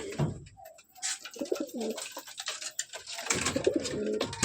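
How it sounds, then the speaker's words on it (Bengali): Pigeons in a loft coo close by at morning feeding time, giving low, throaty, repeated coos in uneven bursts with short pauses between them. "বন্ধুরা বেশি লেট না করে পায়রাগুলোকে এখন ছেড়ে দিতে হবে"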